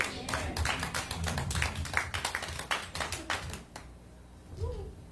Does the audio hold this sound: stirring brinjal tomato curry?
no